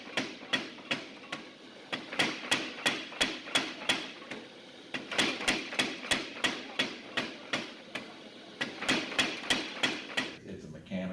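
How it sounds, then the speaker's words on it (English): A 1917 Little Giant mechanical power hammer, hitting with 50 pounds of force, pounds in a fast, steady rhythm of sharp metallic blows, running continuously with brief pauses. "It's a mechanical hammer."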